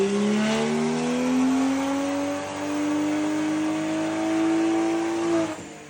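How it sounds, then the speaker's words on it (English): BMW M235i with the N55 engine revving on a dyno, a loud sustained run climbing steadily in pitch for several seconds, briefly easing and then pulling up again before cutting off near the end. "just play a quick clip of my M235i with the N55 on the same dyno"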